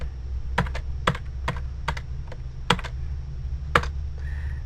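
Sparse keystrokes tap on a computer keyboard, about ten separate clicks at an uneven pace over a low steady hum, typing a short HTML tag.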